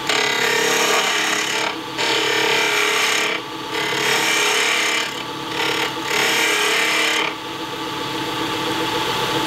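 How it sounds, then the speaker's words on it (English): A 1/2-inch spindle gouge cuts wood on a spinning lathe while shaping a wine stopper, making a loud, continuous rasping hiss that drops out briefly several times as the tool lifts off the wood. "I'm just moving to spindle gouge. In this case, a 1/2-inch spindle gouge."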